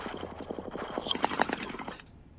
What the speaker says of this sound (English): That is the sound of a bong